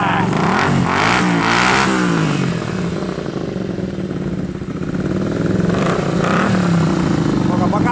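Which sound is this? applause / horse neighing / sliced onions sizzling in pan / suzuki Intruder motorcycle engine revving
suzuki Intruder motorcycle engine revving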